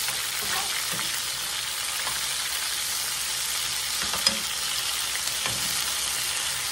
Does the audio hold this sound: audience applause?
no